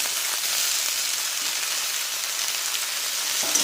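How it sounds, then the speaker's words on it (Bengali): Diced potatoes fry in hot oil, giving a steady, close hiss of sizzling with a few faint crackles throughout and no talking. "আলুটাকে আপনারা দু মিনিট তেলের মধ্যে এভাবে নেড়ে নেবেন"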